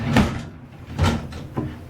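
Drawers in a room at the St. Louis City Center Hotel are pulled open one after another, making three short wooden slides and knocks spaced about a second apart, close and fairly quiet.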